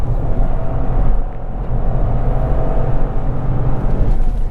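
An Opel Astra L engine running on the move, heard as a loud, steady low rumble from inside the car with road noise, continuous and without talk.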